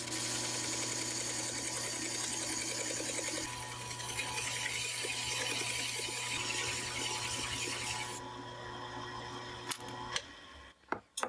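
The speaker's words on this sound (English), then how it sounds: "I'm going to use a drum sander and a jar to catch dust" A drum sander runs with a steady motor whine while a jar catches the dust, the tone shifting a couple of times before the machine spins down and a few sharp knocks follow.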